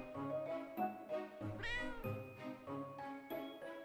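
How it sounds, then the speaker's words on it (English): Cat meowing in the video game Hidden Paws, Christmas Islands level: a string of repeated mid-level meows with harmonic wails and one longer rising caterwaul in the middle, accompanied by faint tinkling game chimes. "Oh, but I can hear a cat."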